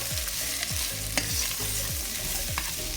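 Carrots and onions sautéing in a pan for pork with mustard, a dense steady sizzle punctuated by rhythmic scraping strokes of a spoon stirring about every half second.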